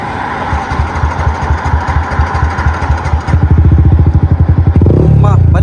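A Yamaha MT15 motorcycle engine restarts, its rhythmic uneven putter picking up into a louder, faster, steady idle beat close by.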